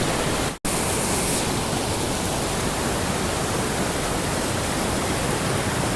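Water of a river flowing down from high mountains, a dense, steady, loud rushing roar with no break except one brief dropout near the start.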